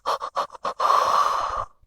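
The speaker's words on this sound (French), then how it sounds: "grande respiration" Deep breathing during a summer yoga session, a few quick sniffing inhales followed by one long, steady exhale that fades out, close and clear, with no talk.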